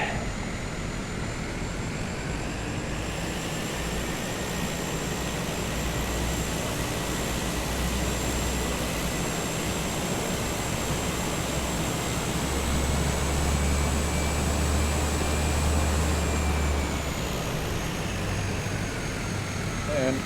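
Cessna 208B Grand Caravan EX turboprop taxiing on the ground, a steady loud engine drone with a high whine holding throughout, near and continuous, with faint talk in the cabin.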